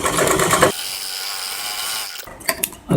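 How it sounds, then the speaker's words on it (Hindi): Sewing machine running a seam along blouse lining for a princess-cut blouse, a loud steady mechanical whir holding for about two seconds, broken by short clicks and handling knocks at either end. "बिल्कुल सिलाई के ऊपर सिलाई लगाएंगे।"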